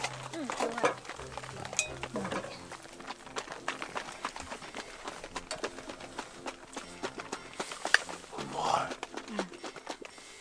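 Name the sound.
shaking cream in a jar to make butter while camping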